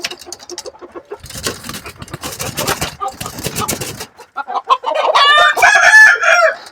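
A large full-crested rooster on a farm clucks and crows nearby, loud and repeated, with calls building into a strong crow toward the end while a person talks over parts of it.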